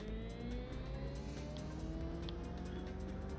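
A car in an arcade-style Xbox drifting game: a steady engine drone with rising revs and faint tire noise, fairly quiet and unbroken, with no talk.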